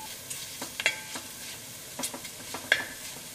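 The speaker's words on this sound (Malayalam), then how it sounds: "മല്ലിപ്പൊടി നന്നായിട്ട് മുരിയണം" Coriander powder stirred and roasted in a pan for Kerala fish curry, soft scraping stirs and light sizzling at close range, with a few sharp clinks of the spoon against the pan and no speech.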